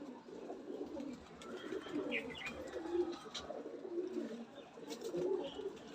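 Pigeons coo repeatedly in low, throaty rolling calls, with a few faint chirps higher up and steady background noise throughout.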